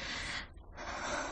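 A woman, addressed as a countess, takes a deep, noisy breath in and out during a doctor's chest examination, heard close and soft with a brief pause between the two phases and no talk.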